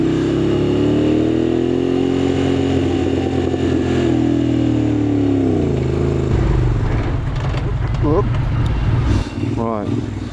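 A Moto Guzzi Griso motorcycle engine pulling away, a loud close drone rising and falling in pitch through gear changes, with wind and road noise building and a voice talking over it.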